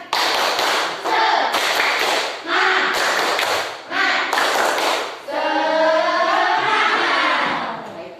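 A classroom of Indonesian schoolchildren performs a rhythmic group clapping chant, bursts of loud unison claps in repeated patterns with short pauses, ending in a sustained cheer or shout from the group.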